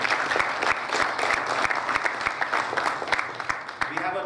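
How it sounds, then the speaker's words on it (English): Applause from the audience at a DevOps technology summit, steady, dense clapping from a large crowd that holds at an even level throughout without pause. "I would like to have a warm round of applause for Pradeep for sharing this."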